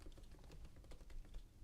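Rapid typing on a computer keyboard while entering a file name for a beach-themed scrapbook layout, a quick run of light, close clicks with no talking.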